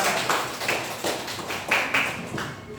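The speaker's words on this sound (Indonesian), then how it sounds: "Tepuk tangan untuk kelompok 4." Students in a classroom clap together for a winning group, a close, fairly loud burst of quick overlapping claps with a few louder accents, lasting a few seconds.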